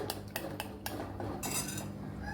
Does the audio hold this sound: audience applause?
no